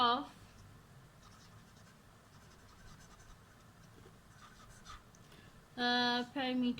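Marker or chalk scratches across a board while working through a maths problem about wire length and square perimeters, soft irregular strokes with a voice briefly speaking at the start and end.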